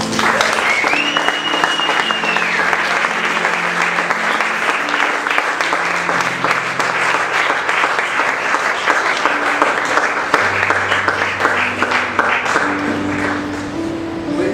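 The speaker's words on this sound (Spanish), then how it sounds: "Vamos a dar un aplauso al Señor." A church congregation at a weekend retreat claps long and loud, a thick continuous roar of applause lasting the whole stretch, with instruments playing softly underneath.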